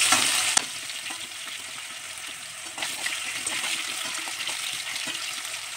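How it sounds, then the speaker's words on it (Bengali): Thin, long-cut potato slices drop into hot oil for a Bengali ilish dish, setting off a steady hissing sizzle with bubbly crackle and occasional stirring clinks, close and continuous throughout. "এবার আমি ওই তেলের মধ্যেই পাতলা করে লম্বা করে কেটে রাখা আলুগুলো দিয়ে দেব।"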